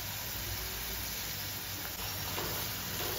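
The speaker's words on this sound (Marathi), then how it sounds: "कांदा गुलाबीसर होईपर्यंत आपण छान परतून घ्यायचा आहे" Chopped onion sautés in a pan being cooked until pinkish, giving a continuous soft sizzle and hiss with faint stirring, steady and fairly quiet without speech.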